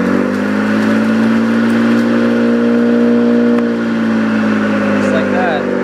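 A homemade cordless electric push mower starts and runs with a steady, loud whirring motor hum that holds level for several seconds and then eases slightly.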